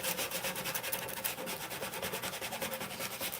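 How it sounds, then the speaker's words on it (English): A Cricut vinyl decal being lined up and smoothed onto a bucket by hand: a quiet, steady rubbing and scraping with a regular back-and-forth rhythm, close up and faint, with no voices. "Here I'm just lining it up, smoothing it out."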